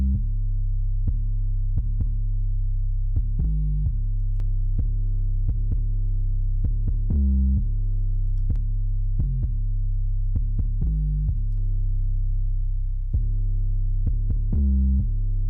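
Music processed through the Empirical Labs Arousor compressor plugin: a deep, throbbing bass pulse repeats at a steady rhythm with sharp clicky transients on top, loud and alone.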